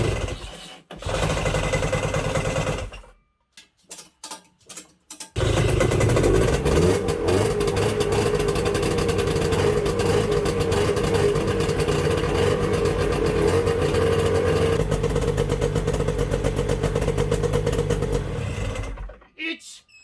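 Vintage twin-track Ski-Doo snowmobile engine cranks in short bursts, then fires and runs loud and steady at a rough, buzzing idle for about fifteen seconds before cutting off; nobody talks over it.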